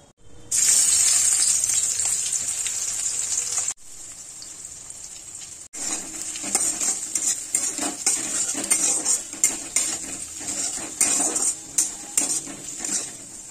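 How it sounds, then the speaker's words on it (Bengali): Chopped onion hits hot oil already holding a bay leaf, a dried red chili and whole garam masala, setting off a loud, steady hiss of frying. Clinks and scrapes from a spoon or spatula against the pan come close by. "আর এই কেটে রাখা পেঁয়াজটা তেলে দিয়ে দেবো।"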